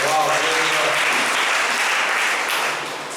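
Applause from a church congregation at a Sunday evening Hindi service, steady and dense through the whole span, tapering slightly at the end.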